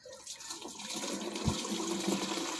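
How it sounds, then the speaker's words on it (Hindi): Water runs into a farm spray tank in a steady, close, rushing pour with a soft thump partway through, preparing a powder fly and mosquito spray. "थोड़ा सा पानी डालेंगे।"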